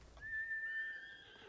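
A single horse whinny in the video game Ghost of Tsushima, a thin, high sustained whistle-like neigh lasting about a second, fairly faint and alone over a quiet background.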